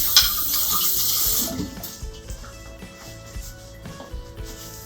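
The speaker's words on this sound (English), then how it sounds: "Let me rinse off my hands from all that fruit juice." A kitchen tap runs as fruit juice is rinsed off hands, a loud steady rush of water for the first second and a half, then softer splashing and trickling at the sink.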